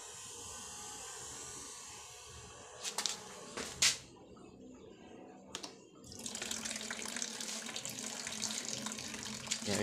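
Water flowing from a container up into a plastic bottle in a homemade free-energy water pump setup, a steady trickling wash of running water after a few sharp handling clicks, close and moderately loud with no talk.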